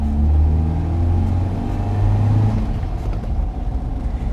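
An MGB GT Jubilee rubber-bumper sports car drives along with a loud, steady low engine drone and rumble heard from close by, the pitch shifting slightly as it pulls, with no talking.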